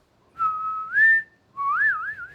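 Tuneful dissonant whistling of a melody from West Side Story, two clear phrases with sliding, wavering pitch, close and fairly loud with no talk.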